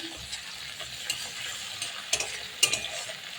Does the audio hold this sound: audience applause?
no